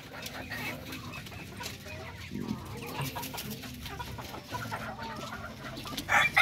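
Darag native chickens cluck softly around someone's feet at a small farm, scattered close clucks over low background noise, with a brief louder sound at the end.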